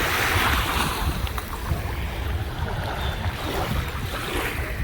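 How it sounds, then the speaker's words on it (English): Small, gentle waves wash onto a calm, wide sandy beach in Cancun, a soft steady surf hiss mixed with light wind buffeting the microphone, continuous and fairly close. "The waves are smaller"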